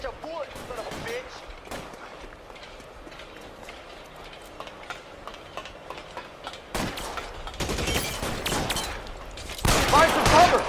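Gunfire in the video game L.A. Noire, scattered single shots and bursts growing denser and louder toward the end, mixed with other game sounds.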